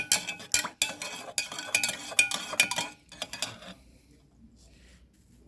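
A spoon clinks and scrapes against a pot while a stock cube and garlic are stirred into hot soup, quick metallic taps in an uneven rhythm that fade to near quiet.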